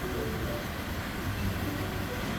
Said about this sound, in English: That's the river we're gonna cross.